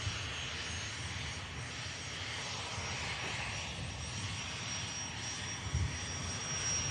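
Steady, distant roar of Virgin Atlantic Airbus A350 jet airliner engines at Manchester Airport, a continuous broad drone with a faint high whine running throughout.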